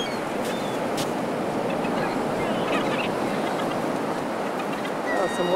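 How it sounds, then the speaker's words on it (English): A steady, broad wash of waves rolling in along the shore, continuous and fairly loud, with faint bird calls drifting over it. "Oh, some waves out there today."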